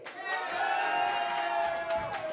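Wrestling fans at an Imperial Wrestling Entertainment show cheer as a steady crowd roar, with sustained shouts and a few sharp whoops rising from the mass of voices.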